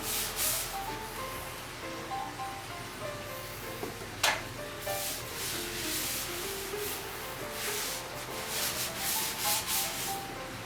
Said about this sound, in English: If you just start sanding without soaking it down a little bit, it takes forever to get it on with the sandpaper.